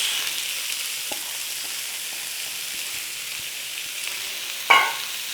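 Onions sizzling in a hot pan after the meat has been browned for a cottage pie, a steady close hiss with a few soft stirring knocks and one sharper clatter near the end.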